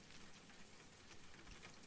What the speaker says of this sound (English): Fitting that I put rain on,